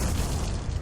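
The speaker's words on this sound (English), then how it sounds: "Even a fucking air explosion." Deep booming explosion from the video game Metal Gear Solid: The Twin Snakes, a loud continuous low-end rumble filling the whole short burst with no voices over it.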